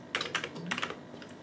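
A few quick, soft keystrokes tap in small clusters on a computer keyboard for an Amiga, close but quiet, with no talking.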